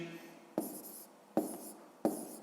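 Pen strokes write numbers by hand for a long-division problem: three short, close scratchy bursts of writing on paper, each with a soft tap at the start, separated by quiet pauses.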